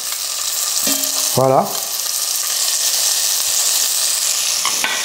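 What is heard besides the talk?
meat browning in a frying pan with butter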